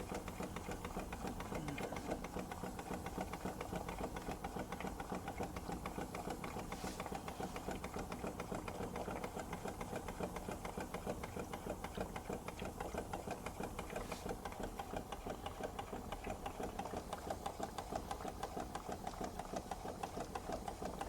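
A Stuart Turner S50 steam engine running on a Fleischmann hybrid steam plant, giving a steady, fast, even mechanical chatter and rattle at low volume throughout, with no talk.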